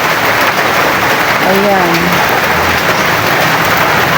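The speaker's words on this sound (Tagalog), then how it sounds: "Bakit kaya hindi ito titigil ang ulan?" Heavy rain pours down in a steady, loud, unbroken hiss that fills the whole stretch. A voice speaks briefly partway through.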